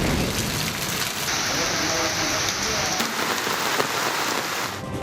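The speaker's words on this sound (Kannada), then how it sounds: "ರಾಜ್ಯದ ಹಲವೆಡೆ ಎಡಬಿಡದೆ ಸುರಿಯುತ್ತಿರೋ ಮಳೆ" Heavy, unrelenting monsoon rain pouring down steadily across a wide area, a dense, loud, continuous hiss of drops on surfaces with no break.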